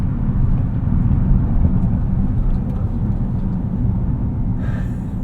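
A 2025 Hyundai Ioniq 5N accelerating hard, heard from inside as a loud, dense low rumble of road and drivetrain noise holding steady throughout, with a faint higher whine rising near the end and no speech.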